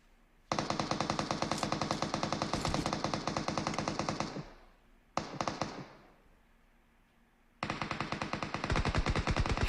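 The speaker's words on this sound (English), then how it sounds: "Shots are going off from all angles." Automatic gunfire in the battle royale game PUBG Mobile during a competitive esports match: loud, rapid, continuous bursts of shots that stop twice briefly and then resume, with no voices over them.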